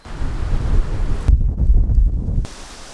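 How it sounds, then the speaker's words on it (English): Strong wind buffets the microphone in a constant roaring rumble on a Colorado mountain pass, Black Bear Pass, briefly dropping to a deeper muffled gust before the rush returns. "It got super windy on the way down"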